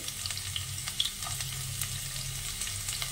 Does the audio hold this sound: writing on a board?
no